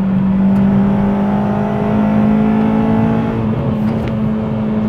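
A restored car with new underside rust repair, tyres and limited-slip differential drives on a damp road, its engine a loud steady drone with a smooth rising note, heard from inside the cabin with no talk.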